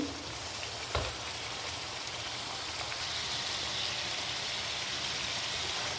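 Mutton and turnip pieces fry on high flame in a pot, giving a loud, steady sizzle and crackle with an occasional stirring clatter, close up and without talk.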